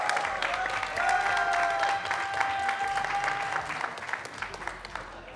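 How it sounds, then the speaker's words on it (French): Audience at a political quiz event gives sustained applause for a contestant, steady clapping that thins slightly near the end, with faint voices underneath. "Je vous demande d'applaudir Stéphanie."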